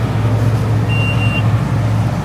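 A combine harvester is driven along with its engine running, giving a loud, steady, close low-pitched drone with a brief thin high tone partway through and no talking.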